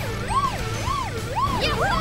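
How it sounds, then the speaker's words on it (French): A wailing police siren in the video game Paw Patrol: Grand Prix rises and falls in a steady, repeating cycle, loud and close, with a low engine hum underneath. "j'active ma sirène"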